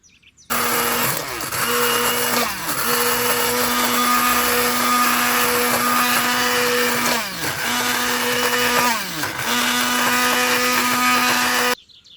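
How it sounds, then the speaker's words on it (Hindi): A hand blender whirs steadily at close range blending lentils and meat for haleem, its motor pitch dipping briefly a couple of times as it works through the thick food, then cutting off. "अब इसको हम हैंड ब्लेंडर की मदद से अच्छे से ब्लेंड कर लेंगे।"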